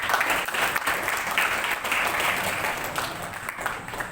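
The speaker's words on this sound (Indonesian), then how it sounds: "Tepuk tangan Pak." An audience at a school farewell event claps steadily, a dense even wash of applause that lasts throughout the clip.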